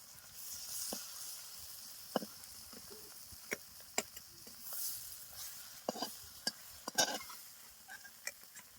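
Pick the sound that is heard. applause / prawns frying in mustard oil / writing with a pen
prawns frying in mustard oil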